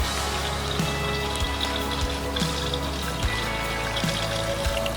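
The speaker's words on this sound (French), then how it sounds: "ça dégouline, hein, l'eau descend très bien" Rainwater trickles and drips steadily down into a rain collector feeding a garden pond, a continuous close splashing flow with faint dripping accents and no voices.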